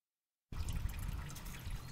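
Radiator fluid from a 1997 Suzuki Sidekick splashes into a drain pan, a sudden continuous trickling and pattering that starts abruptly after a moment of silence and keeps going close by.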